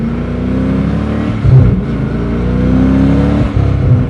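A custom-built car's engine revving on a test drive, a loud steady drone with a brief throttle surge midway, heard from inside with no talk.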